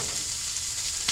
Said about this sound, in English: We're just going to put that in the frying pan.